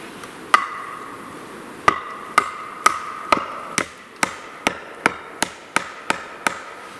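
Hammer blows driving used, bent and crooked nails into the wooden base of a roof, about a dozen sharp strikes, sparse at first and then falling into a quickening steady rhythm, close and loud with no voices.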